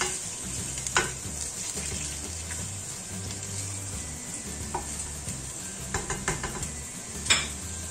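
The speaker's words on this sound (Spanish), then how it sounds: "cuando esté caliente vamos a dorar la carne" Beef sizzles steadily as it browns in hot virgin olive oil in a pan, a soft continuous frying hiss broken by a few clinks and scrapes of utensils against cookware.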